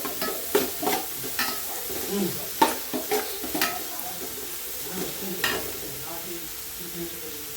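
Onions for a chicken curry fry in a pan with a soft continuous sizzle, broken by frequent scraping stirs and utensil clacks at an uneven rhythm, close and moderately loud.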